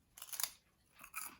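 Close, faint crunching of a salty, crunchy homegrown snack being chewed, two short bursts of crisp bites about a second apart.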